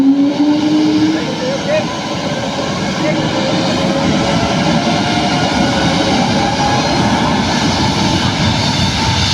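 A Cebu Pacific airplane takes off with a loud, sustained jet engine roar that holds steady throughout, plus a faint rising whine early on.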